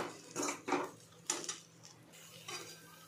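Ingredients with jaggery being roasted and stirred in a pan for a Vidarbha-style ukadpendi, with a spoon scraping and clinking against the metal in several close, irregular bursts.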